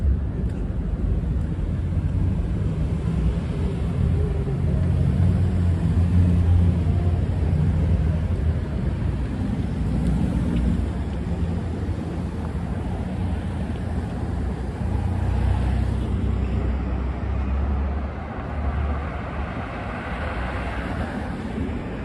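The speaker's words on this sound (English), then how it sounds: "So all these cars are coming from the east side of Manhattan." Steady roar of Midtown Manhattan traffic at night, cars passing continuously at close range as a dense low rumble with swells of louder vehicles, no pauses and no one talking.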